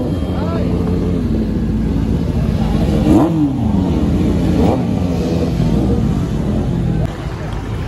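Motorcycle engines rumble steadily nearby, with one rising in a brief rev around the middle, while people talk over the noise.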